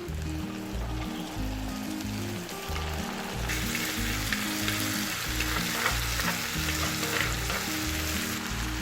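Prawns and ridge gourd frying on high flame in a pan, a strong continuous sizzle with repeated scraping strokes of a spatula stirring, steady and close.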